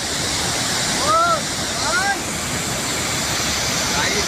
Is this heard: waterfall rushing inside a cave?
yes